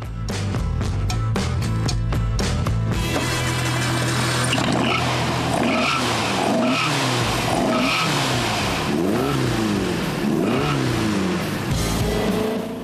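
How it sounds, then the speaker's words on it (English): A 2-liter, 145-horsepower boxer-engined motorsport car drives hard, its engine revving up and down in a loud, continuous stream of sweeping pitch rises and falls, with tires squealing throughout. "its 2-liter, 145 horsepower boxer engine"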